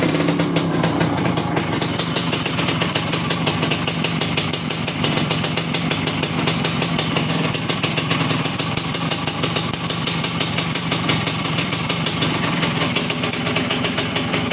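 A ported Suzuki S100 motorcycle engine runs steadily after starting, its loud, continuous, rapid putter holding an even idle-like rhythm throughout with no voices.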